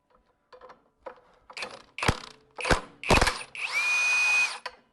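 A power tool spins off two 3/4 inch nuts on a saw hull on a Solis H24 compact tractor: sharp whirring bursts and clinks, ending in one longer rising whine, close and without talk.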